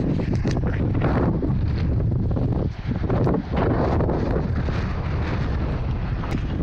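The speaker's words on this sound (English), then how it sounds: "Got a lot windier" Strong wind blasts across the microphone on the Oregon coast, a loud, continuous roaring buffet with gusty surges and a brief lull partway through.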